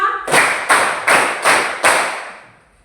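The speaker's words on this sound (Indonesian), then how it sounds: "Tepuk 1, tepuk 2, tepuk 3, tepuk 4, tepuk 5" Five sharp, evenly spaced hand claps from a group keep a steady rhythm, each ringing briefly before the next, and the last fades into quiet.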